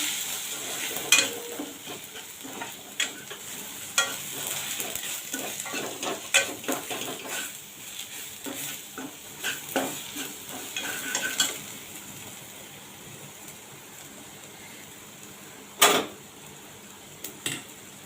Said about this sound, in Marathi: जिरा पावडर धना पावडर टाकते चांगलं परतून घेऊया आता